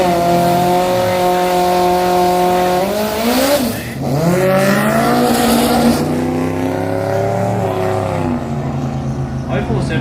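A red Mustang drag racing a Skyline at a drag racing event roars loudly and steadily, its engine pitch climbing through gear changes over a crowd and commentary din, with a voice speaking throughout.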